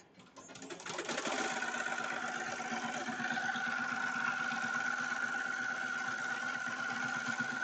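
A Melco Summit embroidery machine sews a cover stitch with a steady, fast mechanical whir and rapid needle rhythm. It starts up in the first second and then runs continuously at an even, close level.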